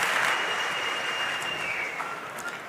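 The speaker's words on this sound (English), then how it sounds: "he gets a shot of the crowd cheering for him" Crowd applauding and cheering at a Rubik's Cube speedcubing world championship finals, a dense burst of clapping that starts strong and slowly fades, heard from within the audience.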